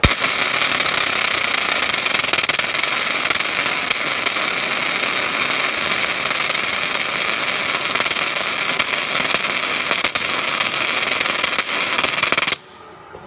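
Gasless flux-core welding lays a bead with a loud, continuous crackling buzz, close and unbroken for about twelve seconds before the arc cuts off abruptly into near silence.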